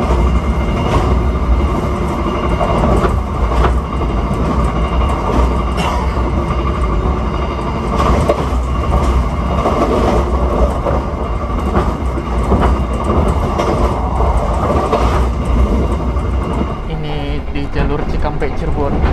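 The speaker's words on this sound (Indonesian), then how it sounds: "kereta api Argo Muria rangkaiannya berisik banget teman-teman" Loud, continuous rattling and rumbling of Argo Muria express train carriages moving at speed on the Cikampek–Cirebon line, with rhythmic clatter and a brief rise in noise near the end.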